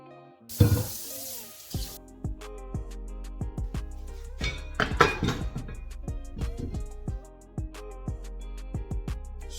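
Water runs from a kitchen tap into a sink in a brief loud gush as hob plates are rinsed, followed by clinking and light clatter from handling the plates.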